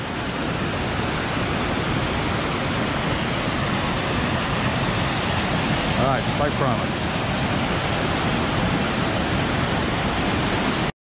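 Spray Falls on Mount Rainier pours down from a great height in a constant, loud roar of rushing water, and someone speaks briefly over it partway through.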